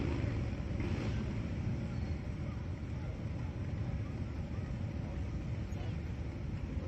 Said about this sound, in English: Hilo's version of Washington, D.C.'s Rolling Thunder motorcycle convoy